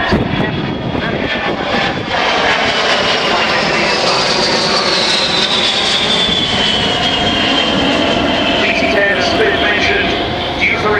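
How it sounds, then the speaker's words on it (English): A BAC VC-10 jet flies past at the Royal International Air Tattoo airshow in a loud, continuous roar, with a sweeping whine that drifts downward as it passes overhead. "In the lead is the BAC VC-10 aircraft celebrating this year the 50th anniversary of its maiden flight."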